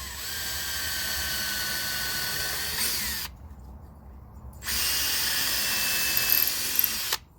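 A Ryobi cordless drill bores holes into wood in two bursts: a loud, close whine of about three seconds, a short pause, then a second run of similar length that stops abruptly.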